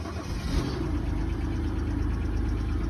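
A jump-started car engine runs at a steady low idle, a constant rumbling hum heard close up with nothing else over it.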